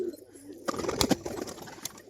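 Domestic pigeons coo softly up close, a few low throaty calls rising and falling over a quiet background, with no talking.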